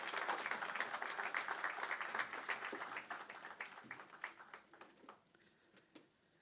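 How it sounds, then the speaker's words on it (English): Audience applause for a choir and its leader at a regional early childhood education workshop, a burst of clapping that thins and fades out over several seconds. "Another round of applause for Paolo and the choir."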